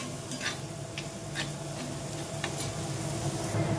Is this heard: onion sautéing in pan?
yes